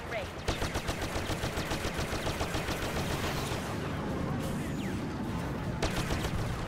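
Rapid blaster fire in the Star Wars Battlefront video game, a steady stream of sharp repeated shots with a few isolated bursts later, under a player's occasional talk.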